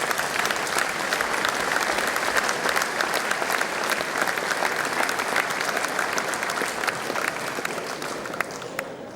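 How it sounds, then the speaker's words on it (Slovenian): A large crowd at a Slovenian beekeepers' celebration claps loudly and steadily, a dense, sustained ovation of many hands that stays strong throughout. "Dajmo ji zaploskati vsi skupaj."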